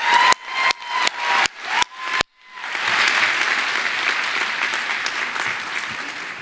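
Applause from the audience at the 2018 Harvard Graduate School of Education convocation ceremony starts after several sharp, separate knocks and swells into loud, sustained clapping with some cheering.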